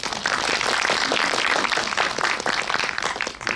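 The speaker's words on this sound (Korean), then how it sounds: "박수 부탁드리겠습니다." Sustained applause from a cinema audience at a film talk event in a Seoul theater, dense steady clapping filling the whole stretch at an even level before tapering slightly at the end.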